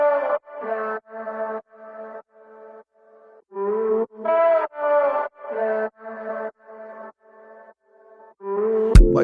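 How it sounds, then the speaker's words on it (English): A sung vocal sample from Splice, cut into a beat: a run of short, even, pitched syllable phrases in a steady rhythm, close and clear, with a brief sharp hit at the very end. "So I got this vocal from Splice"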